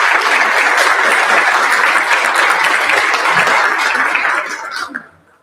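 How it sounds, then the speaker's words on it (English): A round of applause from an audience at a board of education meeting, dense steady clapping that holds for several seconds and then tapers off quickly near the end. "How about a nice round of applause again for this family?"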